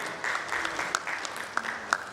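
Applause welcoming a panelist at a panel discussion on digital loan collections for NBFCs, steady clapping from a modest audience with a few sharp louder claps, a voice briefly audible underneath.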